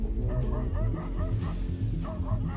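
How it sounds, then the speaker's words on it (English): A dog barks and yips repeatedly during a face-off with a leopard, the barks coming in quick bursts over a dense, steady background of other noise. "The dog was noisy"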